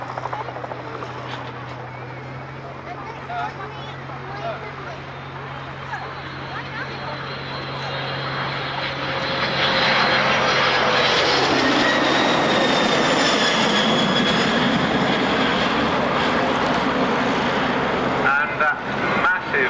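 A United Boeing 767 airliner climbs out after a powered pass at an army air corps airshow, its engine roar rising from a steady hum to a loud broad rush, with a commentator talking over it.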